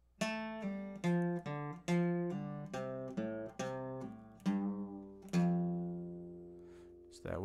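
A twangy electric guitar riff of plucked single notes, ringing close and clear, ending with a sustained note that slowly fades.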